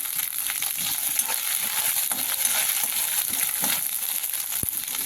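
Ginger and coriander paste with green chillies sautéing in a hot pan, a steady close sizzle and fry crackle with occasional stirring scrapes, continuous and even throughout.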